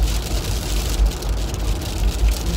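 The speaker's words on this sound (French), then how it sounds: "la grêle c'est pas forcément beau" Hail falling outside, a dense, loud, continuous pattering hiss with a low rumble beneath, steady throughout.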